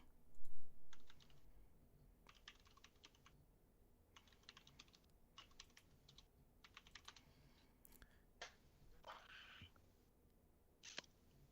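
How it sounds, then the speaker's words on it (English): Bursts of fast computer keyboard typing, clattering in quick clustered runs with short pauses, fairly close and clear, with faint background voices during an online group call. "he's typing away furiously"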